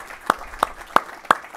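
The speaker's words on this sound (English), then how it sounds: "Can we all just just one more round of applause for this amazing display of bipartisanship" A few sharp, evenly spaced claps at an event, five distinct hand claps about a third of a second apart against a quiet room background.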